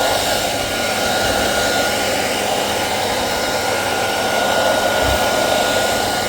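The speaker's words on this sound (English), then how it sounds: "this hairdryer is on its lowest setting" A hairdryer on its lowest setting blows over a vinyl record, a steady broadband whoosh that runs unchanged and fairly loud for several seconds with no voices.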